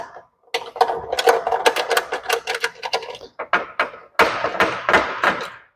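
Quarter-inch screws are backed out of a Tecumseh engine rewind starter with rapid, close ratcheting clicks that come in dense bursts over a few seconds, with brief pauses and no talking.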